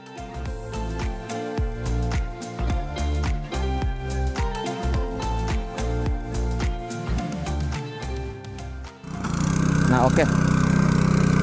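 An FTL 820 two-wheel cultivator fitted with a dicing blade and steel wheels runs close by, digging a water channel; its engine drones steadily with rhythmic thumps, turning into a louder, rougher roar near the end, as a voice briefly speaks.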